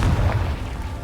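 In Hogwarts Legacy, a Confringo fire-blast spell explodes with a deep, loud boom that starts abruptly and then sinks into a low, fading rumble.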